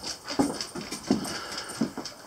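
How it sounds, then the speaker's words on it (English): A dog whimpers and pants close by in three short, evenly spaced bursts, faint whines over soft breathing. "what a dog."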